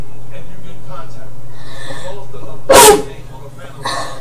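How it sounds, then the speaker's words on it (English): A single sharp sneeze bursts out loud and close, brief and explosive, with indistinct background murmur around it. "Sorry, just sneezed."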